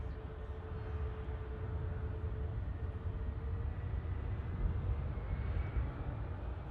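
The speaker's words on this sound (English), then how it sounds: "A320neo out to Stockholm" An Airbus A320neo airliner departs Manchester Airport for Stockholm, a steady distant jet roar with broad rumbling noise that holds evenly throughout.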